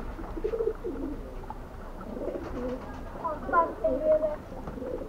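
A pigeon coos nearby in a few soft, repeated throaty phrases, mixed with faint background voices and low ambient noise.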